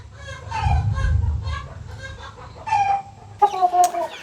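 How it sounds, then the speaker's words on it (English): A backyard chicken coop rooster gives loud, close clucks and a short crowing call, in uneven bursts with a low rumble of wind or handling noise beneath. "We've never had a rooster before"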